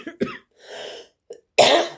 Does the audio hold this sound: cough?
yes